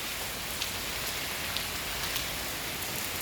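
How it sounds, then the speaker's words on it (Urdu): Steady rain falls outdoors in spring in Duki, a dense even hiss of drops on surfaces with a few sharper drips standing out, continuous and fairly loud with no voices. "بارش کا شور سنا"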